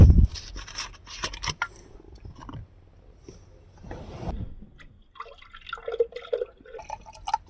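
Mango chilly vodka is poured into a glass at a street food stop, giving close liquid trickling and dripping sounds in short bursts with some background clatter.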